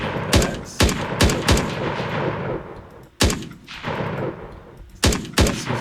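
Repeated sharp gunshots with bullet impacts in an Unreal Engine third-person shooter game, loud single cracks spaced about a second apart with a dense noisy wash between them, no voices.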